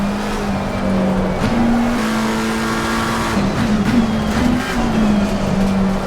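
A race car engine at Nürburgring in a racing video game holds a steady droning pitch on throttle, dipping and rising with gear changes and brief jabs, loud and close with no talk.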